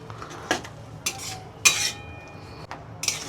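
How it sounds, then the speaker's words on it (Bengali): A spoon clanks and scrapes against a pan while chili chicken sauce with capsicum is stirred, with a few loud metallic knocks over a faint low sizzle and no voices. "এবার আমি এটাকে ভালো করে মিশিয়ে নেব, হালকা করে কষাবো,"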